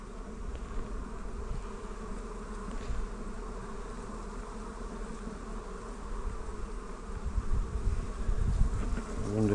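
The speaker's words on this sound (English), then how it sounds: "you can tell it's going to rain because all the bees are just coming back" Honeybees swarming back into hives ahead of rain, a steady continuous buzzing hum from many insects close by, growing slightly louder toward the end.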